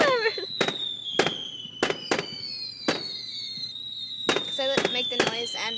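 Fireworks going off in a rapid series of sharp bangs and crackling bursts, with long whistling tones from spiralling rockets sliding down in pitch, fairly close and loud, with voices faint in the background.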